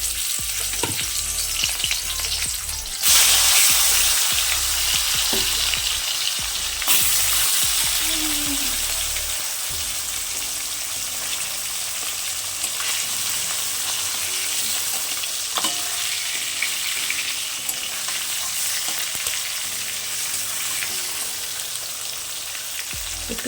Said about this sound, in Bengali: মাছগুলোকে আমি দিয়ে ভেজে নেব।